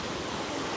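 Flowing water nearby, a steady broadband rushing wash with no breaks over the short stretch.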